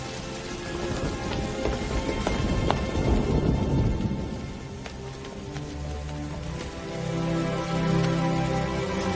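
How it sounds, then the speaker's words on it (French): Steady heavy rain pours down during a nighttime storm in Paris, with low thunder rumbling through the first half and a broad, continuous hiss throughout; no voices. "Comme il pleut."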